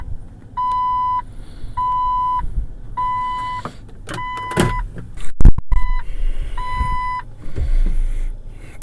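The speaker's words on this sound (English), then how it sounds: "Is it going to stop beeping" Repeated electronic warning chimes from a Jeep Wrangler 4.0L straight six with the key in the accessory position, sounding as steady evenly spaced beeps in a car interior, with a door thump and shuffling partway through.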